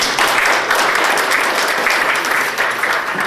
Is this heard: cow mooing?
no